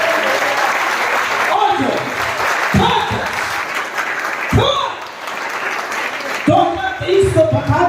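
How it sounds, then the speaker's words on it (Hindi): A church congregation claps loudly together at a pastor's urging during a New Year worship service, the sustained applause filling the room while a voice speaks and calls out over it. "जो जिंदा जोरदार ताली बजाए।"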